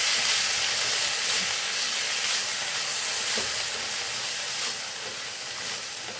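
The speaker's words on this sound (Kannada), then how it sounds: "ಇವಾಗ ಫ್ರೈ ಮಾಡ್ತೀನಿ" Ingredients for a mutton curry fry in a hot pan, a loud, dense, continuous sizzle and hiss that fades slightly toward the end, with no voices over it.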